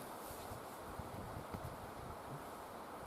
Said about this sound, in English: It's very windy today, unfortunately, and things are blowing out